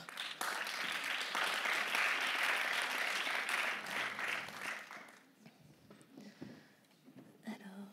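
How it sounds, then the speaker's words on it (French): An awards ceremony crowd applauds loudly and steadily for about five seconds, then the clapping fades into scattered claps and quiet murmuring. "On les applaudit bien fort."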